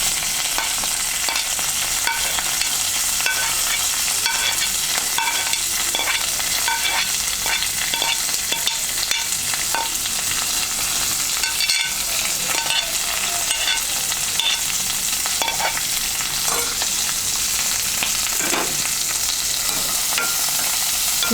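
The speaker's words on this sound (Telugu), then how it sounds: "ఇది కొంచెం ఒక 5 నిమిషాలు వేగాలి ఉల్లిపాయలు." Chopped onions and green chillies fry with curry leaves and dried red chillies in a pan for a drumstick masala curry, making a loud, continuous hissing sizzle punctuated by occasional spoon scrapes, and no speech.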